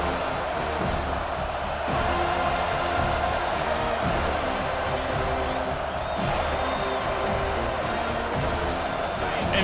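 A stadium crowd roars and cheers after a big third-down play in EA Sports College Football 25, a broad sustained wash of noise beneath an ongoing commentator voice.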